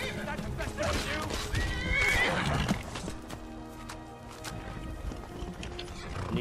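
A horse in the Skyrim video game lets out a loud neigh, and its hooves clip-clop as it runs. A voice is heard faintly beneath the game sounds.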